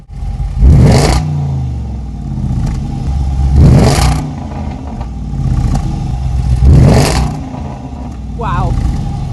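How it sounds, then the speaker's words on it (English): 2023 Jaguar F-Pace SVR engine revved while parked, three loud blips with rising and falling exhaust roar spaced a few seconds apart, with someone talking between the revs. "I'm going to get him to rev the engine because the exhaust note on this is incredible."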